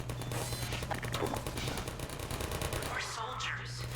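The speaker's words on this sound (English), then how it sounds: "I'm using the turrets correctly." Automatic turret fire in Half-Life 2, a rapid continuous rattle of shots from close by, with other game effects sweeping in toward the end.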